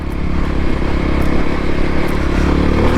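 Voge 300 Rally motorcycle engine pulling steadily in second gear at a relaxed speed, a continuous close low drone with a rough, slightly clattery texture and no noticeable revving changes.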